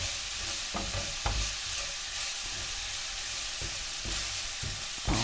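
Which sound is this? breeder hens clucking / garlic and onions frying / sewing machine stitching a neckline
garlic and onions frying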